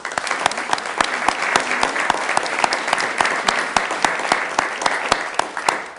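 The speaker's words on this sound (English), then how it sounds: "Let's give them a round of applause, please." A council meeting audience applauds students, a steady crowd clapping that lasts several seconds, sharp individual claps standing out over the dense patter, heard at moderate distance without talk.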